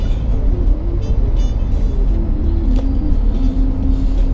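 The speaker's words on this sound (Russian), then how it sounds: "Заезжаем, едем набирать водичку на родник." Car driving toward a spring, a loud continuous low engine and road rumble heard from inside the vehicle, steady throughout without speech.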